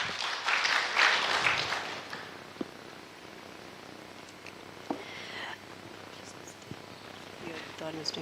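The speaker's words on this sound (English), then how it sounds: "A round of applause" An audience claps at a strategic plan launch event. A fairly brief, moderately loud burst of applause comes at the opening, then it fades into quiet room noise with a few faint knocks.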